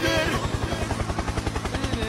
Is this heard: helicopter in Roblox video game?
yes